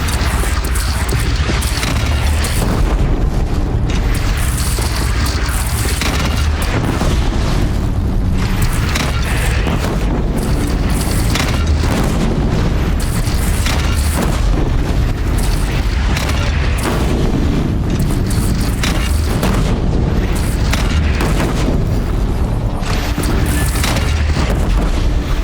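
A single cannon held by a bandit clan firing in the video game Horizon Zero Dawn, with loud, continuous booming blasts and crashing battle noise that fill the scene without pause.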